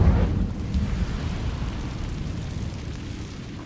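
A fire spell cast in Hogwarts Legacy bursts out loud and low with a roaring rumble, then settles into a steady crackling whoosh of flames that sustains to the end.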